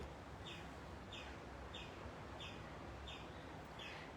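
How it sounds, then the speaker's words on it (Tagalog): Birds chirping at a jungle-like resort beside the sea: a short bright chirp repeats at a steady, regular rhythm about every two-thirds of a second over a constant rushing background, with no talking. "May ibon dito."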